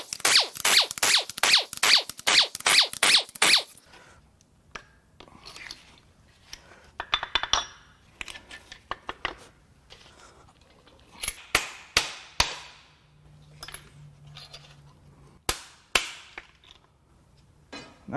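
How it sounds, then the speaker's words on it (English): Main bearing caps being removed from a locked-up Ford 351W 5.8L V8 during teardown: a fast burst of sharp metallic clicks, then scattered loud clanks, knocks and scrapes of cap and tool handling, close and with no talking. "Next, I'm gonna take the main caps off."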